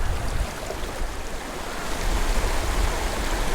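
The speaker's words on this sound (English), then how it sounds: "Is this not a perfect Tenkara stream?" Water rushes steadily along a small mountain creek for Tenkara fly fishing for brook trout, a dense, continuous broadband roar, close and fairly loud with no voices.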